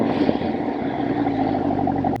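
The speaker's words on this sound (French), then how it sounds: "la Boss Hoss est équipée d'un V8 Chevrolet" A Boss Hoss motorcycle fitted with a Chevrolet V8 car engine runs with a steady low, throbbing rumble, close and unbroken, with no voices.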